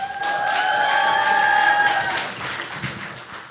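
An audience at a stand-up comedy show applauds and cheers, a loud wash of crowd clapping with a sustained whistle or cheer on top that fades toward the end.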